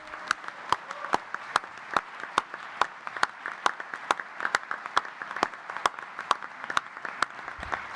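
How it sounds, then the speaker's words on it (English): A conference rally crowd gives an extended round of applause for parliamentary candidates, a dense wash of clapping with a few sharp, loud individual claps cutting through at a quick, uneven rhythm for several seconds, no voices on top. "give Danny, Lucy, Kirsty, Sam, Elsie, Lola, I forgot Polly, she'll tell me off later on, Abtisam, Juliet and Oliver, a massive round of applause"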